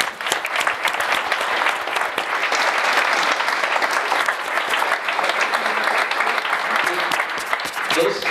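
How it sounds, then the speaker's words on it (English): An audience applauding at a conference session, dense and steady clapping that fills the whole stretch at full strength, loud and close. "I think this is a really great applause."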